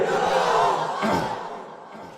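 A large crowd at a religious sermon roars a takbir in unison, two swelling shouts that fade away.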